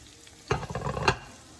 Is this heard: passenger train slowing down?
no